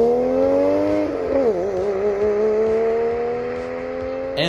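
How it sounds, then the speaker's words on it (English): A 1990s JDM sports car with a flat-six engine revving, a strong harmonic engine note that dips and rises with throttle blips, then holds a steady drone, close and loud. "this car has a powerful flat 6 engine that sounds amazing"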